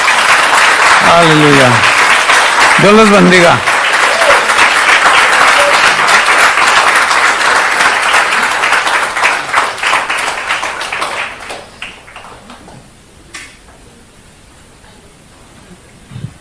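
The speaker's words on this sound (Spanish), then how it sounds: "Denle un aplauso al Señor." Church congregation applauding loudly and steadily after a prayer, the clapping sustained for about eleven seconds before fading out, with a voice speaking over it and continuing after it ends.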